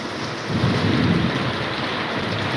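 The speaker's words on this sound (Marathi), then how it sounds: "खूप मोठा पाऊस चालू आहे" Dense, steady downpour in Latur roars across the whole clip with a low rumbling swell of thunder building in the middle; no voices.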